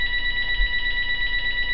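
A phone rings indoors with a steady, bright electronic trill that holds unbroken and fairly loud, with no voices over it.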